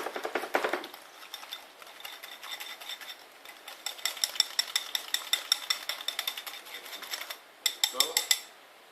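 Rapid metallic clinking of a whisk beating ingredients together in a bowl with chopped cilantro, a steady close scraping rhythm that pauses briefly near the end before a few final strokes.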